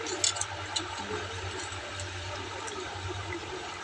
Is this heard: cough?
no